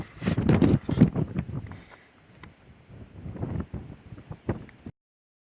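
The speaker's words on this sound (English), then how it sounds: "It is so windy." Strong wind buffeting a microphone outdoors at Halls Gap, gusty rumbling bursts that fade and return before cutting off.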